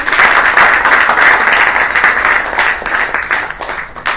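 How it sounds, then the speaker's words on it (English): An audience at a women's growth and success talk gives a big, continuous round of applause for a woman being honoured, loud and dense throughout, tapering slightly near the end. "Give a big round of applause to Anjali."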